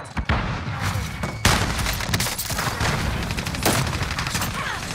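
Gunfire in a battle royale video game, with rapid bursts and sharp shots crackling over a dense, loud background, near and sustained, while faint voices sit under the shooting.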